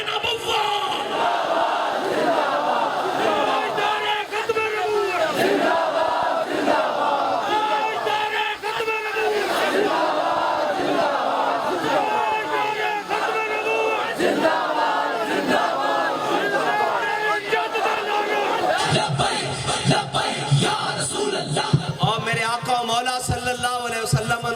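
A large crowd at a religious conference in Nankana chants slogans in loud unison, rhythmic massed shouts repeating over a long stretch, with a leader's calls and roaring responses echoing through a sound system.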